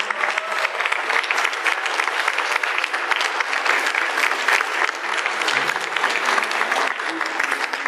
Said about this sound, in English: please give a warm welcome or a warm applause to all these kids